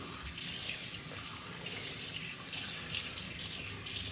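Water runs steadily from a tap into a sink while shaving water is prepared, a continuous close hiss and splash with slight surges and no talking.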